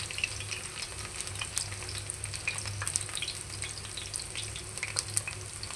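Jackfruit shashlik frying in a pan on a stove, a continuous soft crackling sizzle with faint stirring, fairly quiet and without speech.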